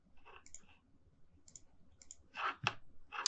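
A computer mouse clicks quietly several times at uneven intervals over a low hum of room noise, with a couple of slightly sharper clicks toward the end and no talking.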